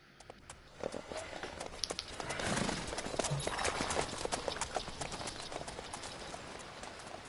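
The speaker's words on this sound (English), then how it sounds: "Crazy looking horses." Horse hooves trotting in The Witcher 3: Wild Hunt in an uneven patter, fairly faint, with a soft whoosh of movement and ambient background throughout.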